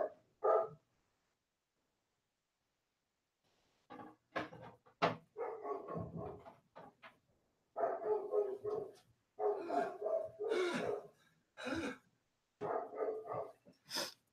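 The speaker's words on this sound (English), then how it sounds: "that dog barking is loud" A dog barks loudly in repeated bursts of several barks with short pauses between them, inside a home during a livestream; no one talks over it.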